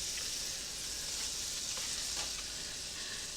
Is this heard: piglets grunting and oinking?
no